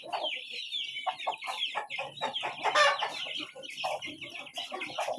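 A flock of chickens clucking and chattering close by, busy overlapping calls with a few louder squawks, no talking.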